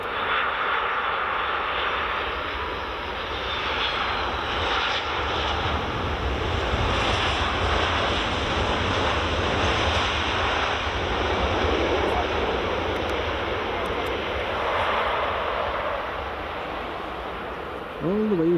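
A SunExpress Boeing 737 MAX from Turkey on runway 24 at Edinburgh Airport in the evening produces a broad, steady engine roar that swells and holds for many seconds, with quiet voices beneath it.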